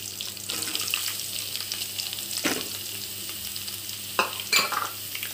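Onions just added to hot oil with green chilli, frying steadily in a pan with a soft continuous sizzle, broken by a few louder stirring clatters near the middle and toward the end.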